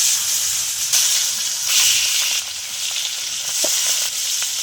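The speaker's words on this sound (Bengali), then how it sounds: "তেল গরম হয়ে গেছে মাছগুলো দিয়ে দিলাম" Turmeric-and-salt-rubbed bacha fish hit hot oil in a wok, producing a loud, continuous sizzling hiss that swells in waves with occasional pops, close up and with no talking.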